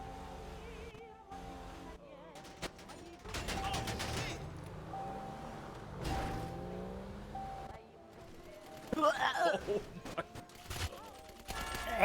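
Gunfire in a GTA roleplay game comes as several bursts of sharp, loud shots between stretches of vehicle and ambient game noise, with voices talking over parts of it.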